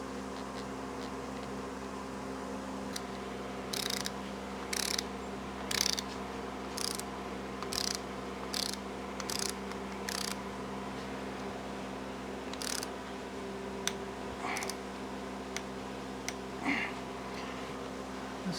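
A hand ratchet clicks in short repeated bursts while tightening camshaft bolts on an old Mercury 260 V8, close up over a steady low hum from the workspace, with no voice.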